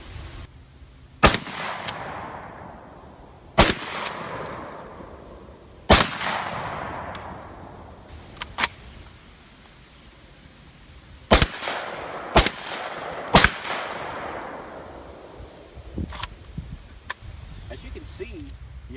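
Shotgun firing double-aught buckshot and Remington slug rounds at a target outdoors, six or seven sharp loud blasts at irregular intervals, each trailing off into a rolling echo.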